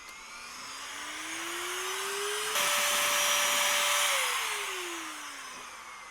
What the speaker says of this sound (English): This is a very strong little duster.